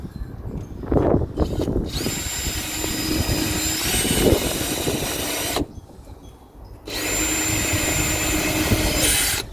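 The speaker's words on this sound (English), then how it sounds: "So just breaking into the fiberglass." A power tool grinds and cuts steadily into fiberglass, a loud, continuous high-pitched whine with brief pauses between cutting runs.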